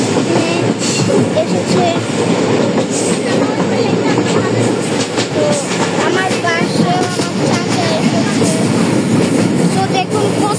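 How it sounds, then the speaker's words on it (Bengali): A train rushes past close by, its loud, continuous rumble and rhythmic clatter of wheels running the whole way through, with a voice speaking briefly over the noise. "তো দেখুন কত তাড়াতাড়ি যাচ্ছে ট্রেন।"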